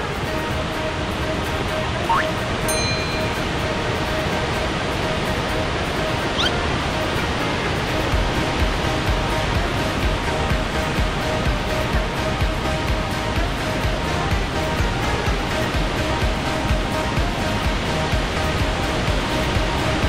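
A loud waterfall at Banff and Lake Louise in the Canadian Rockies makes a continuous, broadband roar from close by. It stays steady throughout, with faint hints of voices and a couple of brief high chirps above the rush.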